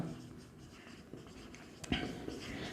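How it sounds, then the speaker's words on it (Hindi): A teacher writes on a classroom board during a trigonometry lesson, a faint scratchy scraping with a few sharper taps, soft and close with no talk. "या फिर लिख देता हूं एक बार"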